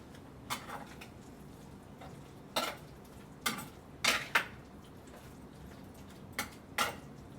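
Steak seasoning being stirred in a bowl, heard as scattered clinks and scrapes of a utensil against the bowl, some in quick pairs, over a quiet room background.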